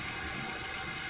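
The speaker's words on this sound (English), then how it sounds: "You want some water out of the sink?" Water runs steadily from a bathroom sink faucet, a continuous close hiss of flowing water with no voices.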